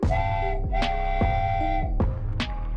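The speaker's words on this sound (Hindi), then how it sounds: "तभी वहाँ वो भूतिया ट्रेन एक हॉर्न के साथ आ रही होती है" A loud, sustained horn blares in long tonal blasts, broken by sharp percussive clanks at intervals, like a train approaching close by.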